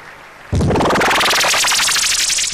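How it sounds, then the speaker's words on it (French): A church congregation bursts into loud, sustained applause and cheering for a deacon at a reverend's 70th birthday celebration, starting abruptly after a quiet moment and filling the room with dense clapping. "Nous pouvons aussi acclamer pour le diacre"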